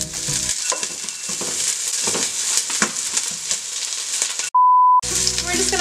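Onions sauté in hot oil in a pan, a loud close crackling sizzle with stirring clatter, interrupted near the end by a short steady censor-style beep.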